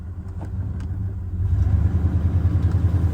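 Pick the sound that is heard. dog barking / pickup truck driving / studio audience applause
pickup truck driving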